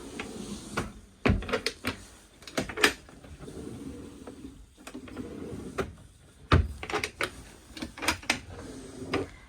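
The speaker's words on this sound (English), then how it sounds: "And you've got some nice large drawers." Soft-close motorhome drawers slide open and shut nearby, a series of soft thuds and light clicks spaced irregularly, with no talking.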